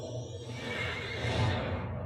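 A horse neighs in the game Lord of the Rings Online, one loud, close whinny that rises and falls over about two seconds.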